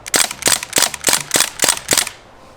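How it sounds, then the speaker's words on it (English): A Crosman DPMS Panther Arms SBR air rifle fires seven sharp semi-auto shots in quick, even succession, each a crisp loud snap close by, then falls silent. "switch it to semi and fire the first shot of this video"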